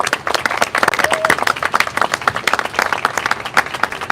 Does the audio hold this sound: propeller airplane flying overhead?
no